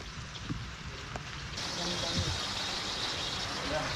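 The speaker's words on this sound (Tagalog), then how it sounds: "Ngayon, ayan, umuulan." Rain falls steadily outdoors during a typhoon, a broad even hiss that grows noticeably louder and denser about halfway through, with faint vehicle rumble low underneath.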